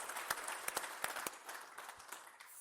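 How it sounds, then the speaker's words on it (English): Audience applause for the sponsors at a leadership event: a faint, steady patter of many hands clapping, with a few sharper claps standing out across the short burst. "let's give a round of applause for them for helping hook us to Miller."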